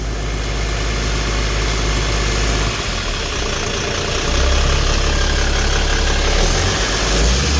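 A long-parked car's engine idles steadily and loudly at close range, a continuous low rumble with a slight shift in tone partway through, with no talking.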